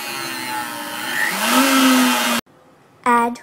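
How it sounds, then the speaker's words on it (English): A blender whirring through a vegan shake, running steadily for about two and a half seconds and rising in pitch, then cutting off before a brief second burst. "Blend well."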